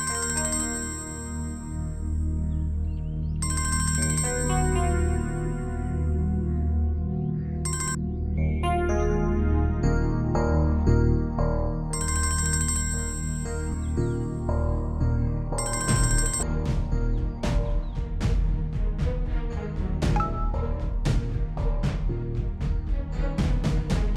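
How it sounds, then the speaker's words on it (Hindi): A mobile phone ringtone rings on and on unanswered in a Pakistani TV drama scene, a loud, steady electronic melody repeating for over twenty seconds with no talk over it. "फोन क्यों नहीं उठा रही है"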